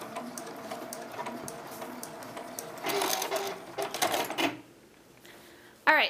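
A sewing machine runs a back stitch while sewing binding on a quilt, a fast mechanical chatter of stitches for several seconds before stopping, with a brief clatter at the end.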